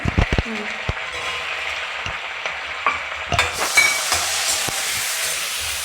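Curry leaves and onions frying in a pan, with sharp stirring clatters at the start and then a steady bright sizzle punctuated by spoon scrapes, close and fairly loud.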